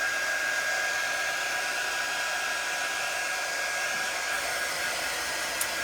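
A hair dryer blows steadily to dry paint on a journal cover, a continuous loud rushing hiss with a faint motor whine, held close and unbroken throughout.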